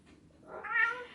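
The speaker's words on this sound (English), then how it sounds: "My cat is mentally unstable." A pet cat gives one rising meow indoors, fairly faint and alone.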